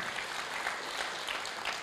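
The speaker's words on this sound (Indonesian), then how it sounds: "Berikan tepuk tangan yang meriah buat Tuhan." A church congregation claps in a soft, steady wash of applause, faint and distant, with no voices on top.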